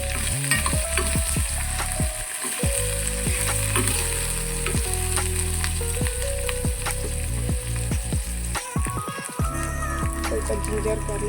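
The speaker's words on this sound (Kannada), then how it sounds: "ಇದು ಸ್ವಲ್ಪ ಗೋಲ್ಡನ್ ಬ್ರೌನ್ ಬರೋವರೆಗೂ ಫ್ರೈ ಮಾಡ್ಕೊಳ್ಳೋಣ." Onions sizzle in hot oil in a pan while being cooked for a methi paneer matar masala, a steady loud frying hiss broken by repeated scraping and clattering of a stirring spoon.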